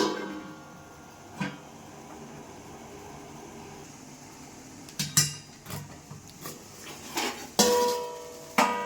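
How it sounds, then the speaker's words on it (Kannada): Several sharp metallic clanks and knocks of a lid being set on a pot of boiling rasmalai, mostly in the second half, over a quiet background hum. "ಇವಾಗ ಲಿಡನ್ನು ಕ್ಲೋಸ್ ಮಾಡ್ತಾ ಇದ್ದೀನಿ"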